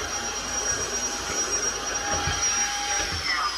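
A Tineco wet-dry mop runs steadily over low pile carpet, giving a loud, constant motor whine and suction hum with faint tonal whistles, close and unbroken throughout.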